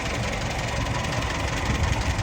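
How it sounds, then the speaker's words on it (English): A 1958 Beardmore taxi's Ford overhead-valve engine idles under the open bonnet, a steady, close, low rumbling tick-over that runs evenly throughout with no voices. "under the bonnet, ticking over quite nicely"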